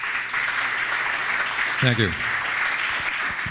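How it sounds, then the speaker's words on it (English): Audience applause at a candidates night forum for young moderators, a steady wash of clapping, with a brief spoken thanks rising over it midway. "You want to give them a round of applause"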